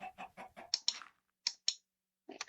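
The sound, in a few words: chicken clucking in the video game Minecraft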